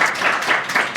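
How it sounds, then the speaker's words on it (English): Brief audience applause for a panel at a workforce discussion event, a short burst of many hands clapping at once, fairly loud and close. "Can we give them a round of applause for just taking some time out?"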